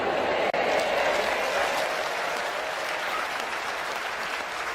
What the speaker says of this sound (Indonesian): Anda yang tepuk tangan lebih diberkati Tuhan